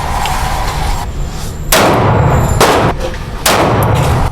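Three loud, sharp gunshots from a Springfield Armory Hellcat 9mm pistol at a shooting range, fired close by at a quick, uneven pace with no talking.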